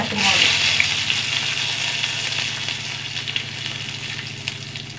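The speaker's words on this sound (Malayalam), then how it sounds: "എണ്ണ ചൂടാവട്ടെ കുറച്ച് കടുക് കുറച്ച് കറിവേപ്പില" Mustard seeds and curry leaves sizzling in hot oil, a loud, dense, steady hiss close by that eases slightly over a few seconds.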